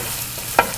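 Shallow-fried shrimp stirred into a masala in a pan: a steady low sizzle with one brief scrape of the spoon partway through, close and fairly quiet.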